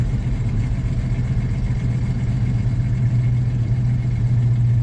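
A 1973-1987 GMC/Chevy C10 pickup engine idles after a cold start with its choke not yet set, a steady low rumble held slightly high, near and constant with no talking.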